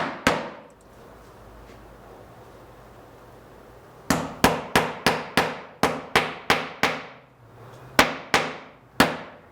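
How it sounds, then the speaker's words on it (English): Nails are hammered through scrap wood strips into panels while building a PT11. A brief early strike is followed by a quiet gap, then a quick run of about a dozen sharp, ringing hammer blows, close and clear. "nailing the scrap strips down and through the panels to hold puzzle joint number 2"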